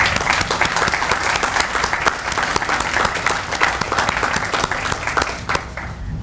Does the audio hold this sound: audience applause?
yes